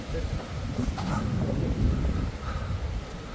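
Strong wind buffets the microphone on a hilltop by a stone quarry, a low rumbling roar with gusty surges while a person speaks.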